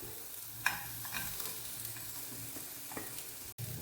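Chicken for a Schezwan chicken roll sizzles in a pan with pepper and is stirred, giving a steady close frying hiss with light scraping strokes and a few clicks, with no voices.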